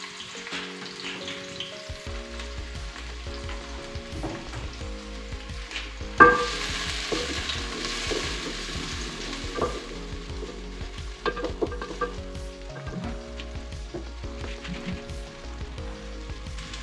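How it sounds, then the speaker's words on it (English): Chopped onions fry in hot oil over a firewood fire, a steady close sizzle and crackle with scattered stirring scrapes and a louder clatter partway through, no talking. "We start with the onions. The oil is hot enough."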